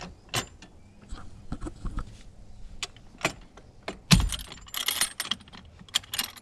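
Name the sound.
fire extinguisher placed into car mount holder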